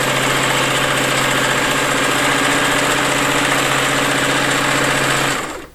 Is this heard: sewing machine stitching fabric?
yes